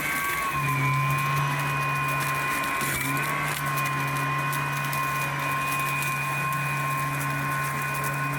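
A Lymow One robot lawn mower starting up to mow, a steady loud mechanical whine and motor hum that continues evenly and close by, with no talk.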